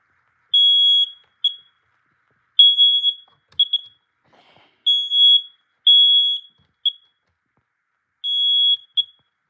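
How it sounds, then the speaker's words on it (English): A smoke alarm sounds in loud, shrill high-pitched beeps, coming in irregular bursts of short and longer chirps with brief silences between them. "like a fire alarm, like a smoke alarm"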